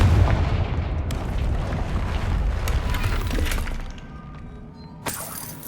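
A Confringo blasting spell going off in Hogwarts Legacy: a loud, close burst of blast and shattering that crackles and rumbles, then fades over a few seconds, and a short sharp impact follows near the end.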